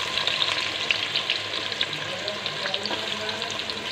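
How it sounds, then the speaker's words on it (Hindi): Chopped onions frying in hot oil in a pressure cooker, a steady close crackling sizzle with occasional stirring clinks throughout. "और मैं प्याज को फ्राई कर रही हूँ"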